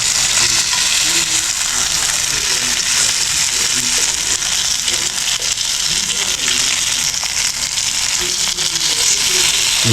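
Spicy fish fries on a hot tawa with a steady, dense sizzle and crackle that holds loud and close for the whole stretch.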